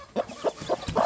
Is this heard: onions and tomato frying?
no